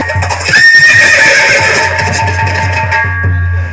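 Several horses neigh and whinny loudly and close by, with a long rising cry near the start followed by further overlapping whinnies and snorts over a low rumbling background, no talk.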